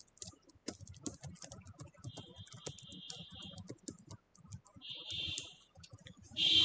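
Login details being typed on a computer keyboard, quick irregular clicks of keys in close, quiet bursts, with a couple of brief electronic tones between them.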